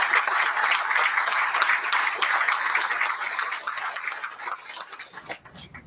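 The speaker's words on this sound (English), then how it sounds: "Let's give UPS and all its workers a big round of applause." Steady, dense applause from an audience gathered in a UPS aircraft hangar facility, holding strong for several seconds before thinning out and fading at the end.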